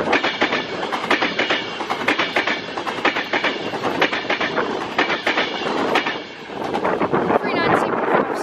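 A Class 323 electric train pulls out of Crewe station, its wheels clattering in repeated clicks over the rail joints, loud and close, with a steady rumble throughout and someone speaking over it.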